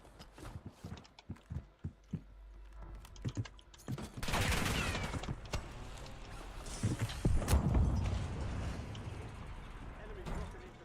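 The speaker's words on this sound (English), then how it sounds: "Is that his buddy shooting?" Gunfire in Call of Duty Warzone: a loose string of sharp, separate shots, then heavier, denser bursts of firing and impacts over a rumbling background, moderately distant and fairly quiet.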